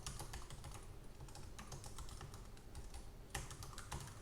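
Keyword phrases typed on a computer keyboard, a quiet, steady run of soft key taps with a few slightly louder strokes near the end, with no speech.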